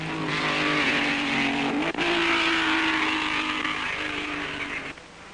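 1958 Grand Prix race cars, a Ferrari and a Vanwall, duelling through the tree-lined curves of a very fast European circuit, with loud, sustained engine roar rising and shifting in pitch as the cars pass, fading slightly at the end.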